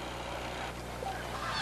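Geese honk at a winter wildfowl lake, a steady dense flock chorus with faint scattered calls over continuous low background noise and no talking.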